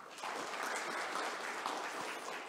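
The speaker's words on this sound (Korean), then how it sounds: "큰 박수 부탁드립니다" An audience at an agricultural outlook conference panel applauds as participants are introduced, producing dense, steady clapping that fills the space evenly from start to finish with no talk over it.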